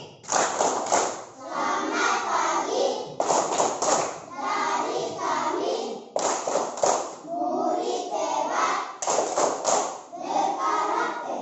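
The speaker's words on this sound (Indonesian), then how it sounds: "Tepuk tangan yang keras." Children in a classroom clapping loudly in short rhythmic bursts, with excited voices and shouting between the claps, close and energetic throughout.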